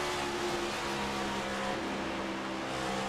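Race car engine held at throttle at Charlotte Motor Speedway in a sim racing league game, a steady loud droning roar with sustained tone, slight dips as the throttle eases, no talk.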